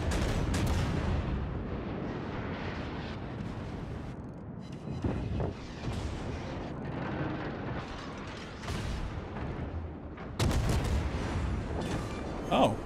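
Naval guns boom repeatedly in World of Warships, with dense, heavy blasts layered through busy battle noise. A sharp, loud salvo lands near the end.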